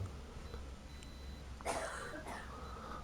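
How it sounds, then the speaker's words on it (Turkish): A short, muffled cough sounds in the background around the middle, followed by a fainter second one, over steady low room noise. "Annen öksürdü."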